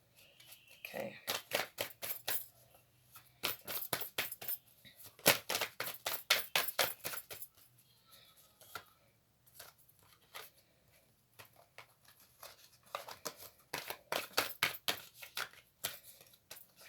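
Tarot cards riffle and flap in quick crackling bursts, shuffled repeatedly in close, uneven rounds with short quiet gaps between.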